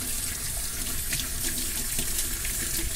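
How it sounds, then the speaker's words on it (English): Tap water runs steadily into a sink while a fish is washed under the stream, a continuous close splashing rush with faint shifts as the fish moves through the flow. "Then I'm going to wash one more time."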